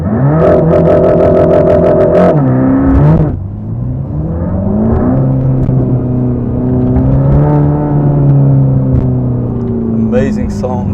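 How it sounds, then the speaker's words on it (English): A Mercedes-AMG GT Black Series flat-plane V8 in race mode revs hard from a standstill against the brake, a loud, rising, harmonic engine roar that dips briefly and then climbs steadily again, heard from inside the car. "this time in race mode. So let's put the foot on the brake and hit the gas pedal."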